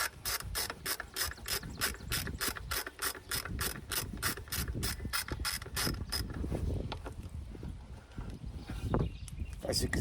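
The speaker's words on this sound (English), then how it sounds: "Also gonna be using a 10mm socket with a little stubby ratchet." A stubby ratchet with a 10mm socket clicks rapidly and rhythmically while backing out bolts on a 2010 Kia Soul valve cover, close and crisp, then gives way to fainter handling noise with talk over it.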